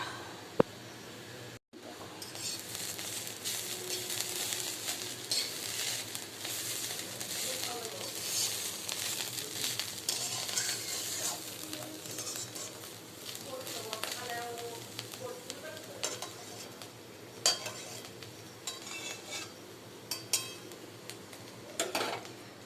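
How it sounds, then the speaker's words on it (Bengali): Banana stem (thor) sizzles steadily in a pan while a utensil stirs it, with occasional metallic clinks and scrapes against the pan throughout, fairly close. "এখন হচ্ছে থোর ভাজা।"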